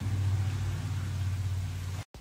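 Steady low engine rumble and road noise inside a moving car, continuous and fairly loud, cutting out abruptly near the end.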